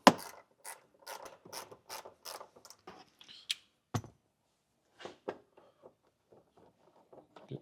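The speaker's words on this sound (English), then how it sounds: "behind that is a 10mm plastic bolt. And we'll just get that taken off." Ratchet wrench backing out a 10mm plastic bolt behind the tail light of a 2024 Jeep Wrangler; a close, loud series of evenly spaced ratcheting clicks, then a few slower, fainter turns.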